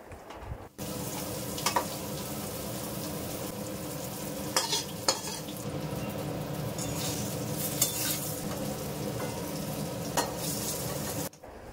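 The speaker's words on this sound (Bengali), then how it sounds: "এবার খুব ভালো করে বেগুনগুলো লাল লাল করে ভেজে নেব" Long eggplant strips fry steadily in hot oil in a home kitchen, a continuous close sizzle with occasional stirring clinks and scrapes, no voices.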